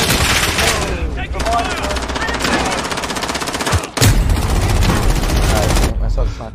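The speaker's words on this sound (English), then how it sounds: "Watch where you're shooting!" Sustained automatic gunfire in the Call of Duty Modern Warfare gulag, loud rapid bursts that run for several seconds, break briefly, then resume just as heavily.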